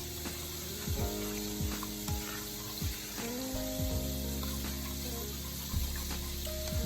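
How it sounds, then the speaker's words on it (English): Chicken fries in hot oil with a steady sizzle and bursts of crackle, while a few tonal scraping and squeaking sounds from a utensil rise and fall over it. "Y'all hear that sizzle over there? Baby, that's how you fry chicken."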